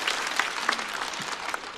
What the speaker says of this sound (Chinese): 来，再次掌声送给杨欣